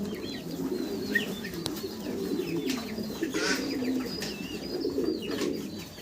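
Fancy frillback pigeons coo in soft, low repeated phrases close by, with occasional chirps and a brief wing flutter, no talking.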